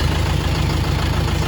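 A UHI tractor engine idles in a steady, even low rumble, moderately loud and close, with no other sounds over it.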